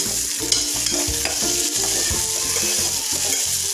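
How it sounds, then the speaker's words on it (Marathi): Tempering for khichadi stir-fried in a pan: a continuous close sizzle with repeated scraping spoon strokes and soft metal clinks, loud and steady throughout with no voices. "आणि फोडणी व्यवस्थित परतवून घेऊया।"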